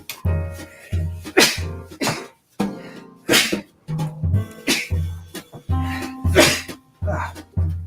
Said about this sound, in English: COVID sneeze.